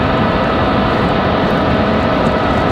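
Loud, steady roar of a Boeing 757 airliner's jet engines during departure from Raleigh Durham International Airport, a broad continuous rumble and hiss that fills the air without letup.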